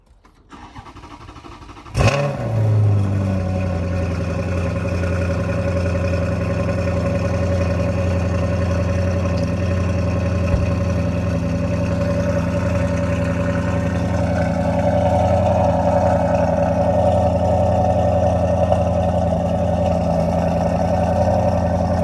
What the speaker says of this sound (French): on va faire un Cold Start